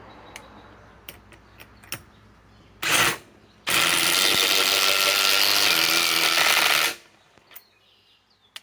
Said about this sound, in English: This is meant for an impact wrench, and this still did a hell of a job for an impact driver.